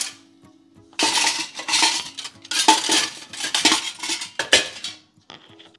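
Kitchen utensils, a scraper and several spoons, clatter and clink repeatedly as they are handled and packed, with bursts of metallic rattling close by over several seconds.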